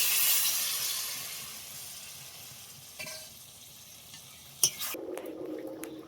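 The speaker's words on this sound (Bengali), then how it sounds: "এবার দিয়ে দেবো সামান্য একটু জল" A little water poured into fried snail curry masala in a pan raises a quiet sizzle that gradually fades, broken by a few soft clicks and a sharper knock, then gives way to a low bubbling hum.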